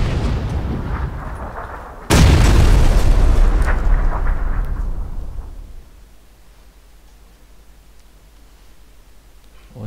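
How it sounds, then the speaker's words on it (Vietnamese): A loud bomb blast in the PUBG battle royale game hits suddenly and booms heavily, then its low rumble slowly fades out over several seconds. "Ủa sao tao nổ bom mày mà."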